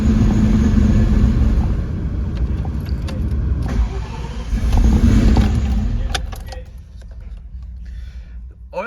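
A cammed 2004 Mustang GT with a 4.6 2V V8, ported heads and a McLeod setup, cranks and fires up close by, settling into a loud, lumpy rumbling idle with some faint voices in the background.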